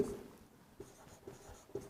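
Chalk or marker strokes on a board during a maths lesson on simple interest, a few short quiet scratches spaced about half a second apart in a hushed room.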